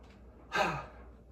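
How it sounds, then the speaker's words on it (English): A single heavy, breathy exhale like a gasping sigh after a set of squats on leg day, loud and close, rising suddenly and trailing off over about a second. "It's me making my awkward breathing noises for you."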